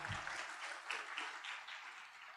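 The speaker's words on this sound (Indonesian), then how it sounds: "Tepuk tangan buat Pak Andi Yustana." Audience applause at a Tiens Indonesia team gathering, faint and distant crowd clapping, steady and diffuse throughout.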